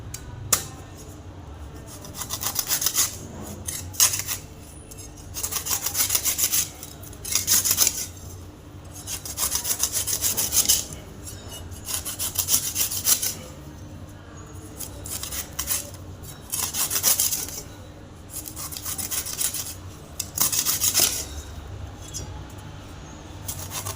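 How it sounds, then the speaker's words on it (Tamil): A knife cuts and scrapes ice apple palm fruit for juice in repeated bursts of rasping, scraping strokes with short pauses between them, close and fairly loud. "இப்போது பழம் வெட்டிடலாங்க"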